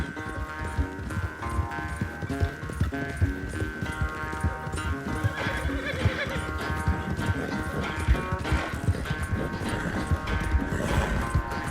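Horse hooves gallop in Red Dead Redemption 2, a steady, loud clip-clop rhythm running throughout under a music and effects bed, with occasional whinnies and faint voices.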